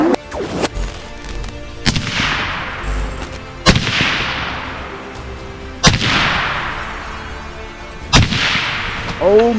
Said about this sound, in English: I haven't shot one with a bang stick in forever.